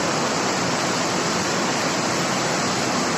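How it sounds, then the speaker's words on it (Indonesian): Flood water rushes down a river fed from Dieng, a dense, unbroken roar like a waterfall, loud and constant without any pauses. "keadaan banjir saat ini di permukaan air"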